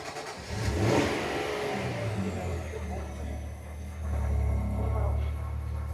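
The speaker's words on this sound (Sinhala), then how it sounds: "ඕක තමයි exhaust note එක." A 2025 Nissan Armada SUV's engine runs with a steady, full exhaust note that swells in a rev near the start and again around the middle, close and continuous throughout.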